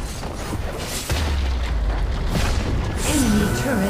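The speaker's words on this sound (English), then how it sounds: "Enemy turret destroyed." Enemy turret destroyed in Wild Rift, a heavy booming explosion with deep low rumble swelling partway through, over continuous game noise, with a voice near the end.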